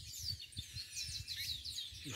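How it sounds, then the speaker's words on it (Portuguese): Birds sing busily from juazeiro shrubs under hot sun, a faint, continuous tangle of high chirps and twitters heard from a distance, with soft low thumps of handling noise underneath and no talking. "Os passarinhos estão numa cantoria danada aí, o sol quente."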